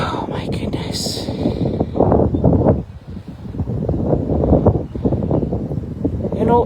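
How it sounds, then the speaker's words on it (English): Strong, cool wind gusts outdoors at a farm animal sanctuary, rumbling and buffeting the microphone in a constant roar while a person talks over it. "windy and it has just turned a bit cooler there"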